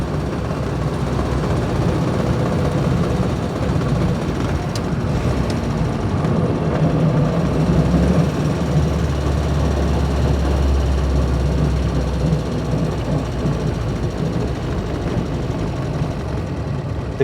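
A 1936 Austin 7 Ruby's small engine runs steadily with a low rumbling drone as the car slows toward a stop, loud and continuous with a slight dip in tone partway through.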